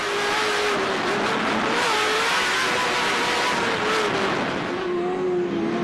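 An off-road Pro2 racing truck engine roars loudly and continuously, revving up and easing off in waves with no voices.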